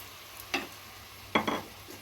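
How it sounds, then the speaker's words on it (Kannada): Washed rice going into a pot with vegetables and spices for vegetable pulao, two quick scraping stirs with a pause between them, faint and close with a low hum behind. "ವಾಶ್ ಮಾಡಿರೋ ಅಕ್ಕಿ ಹಾಕ್ಕೊಂಡು"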